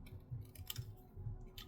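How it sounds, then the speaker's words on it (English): Scissors cutting small arches out of paper for a handmade greeting card, a quiet series of close, rhythmic snips and crisp clicks. "we're going to take our scissors and we're going to cut out the little half ovals, the little arches"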